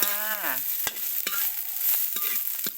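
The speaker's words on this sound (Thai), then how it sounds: "ผัดพริกก่อนค่ะ" Chili is stir-fried in a pan for a Thai curry with greens and beef, the sizzle steady and close while a spatula scrapes and knocks in a few sharp strokes; a brief tonal whine sounds at the start.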